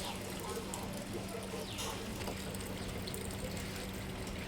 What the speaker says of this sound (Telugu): వాటర్ పడుతున్నాయి ఫ్రెండ్స్.